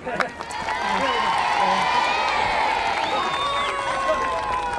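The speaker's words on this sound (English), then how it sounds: "Give him a clap." A 1986 television studio audience claps and cheers in a loud, sustained wash of applause with shouting children and excited voices mixed through it.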